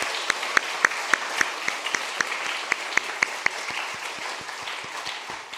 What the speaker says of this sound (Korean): 우리 수고했다고 한번 격려 박수 한번 하겠습니다.